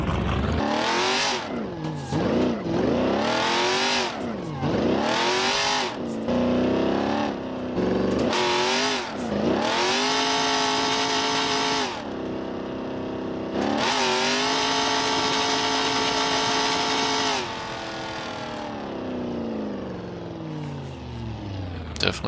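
C6 Corvette Cup race car in BeamNG.Drive, engine revving hard through repeated rising and falling gear sweeps, with long sustained high-rev pulls; loud and close throughout, with a voice talking at times.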